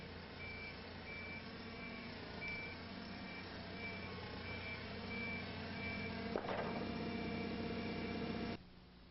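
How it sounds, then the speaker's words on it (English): A forklift rolls along slowly in a warehouse setting, its engine a low steady hum with a repeating high reversing-style beep, all fairly faint and with no voices. "Here the forklift is traveling slower than it did in the actual mishap."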